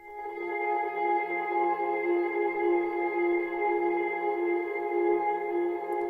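Atmospheric ambient pad built from a guitar sample processed in Cecilia, a sustained, even drone with layered harmonic tones, smooth and unbroken throughout.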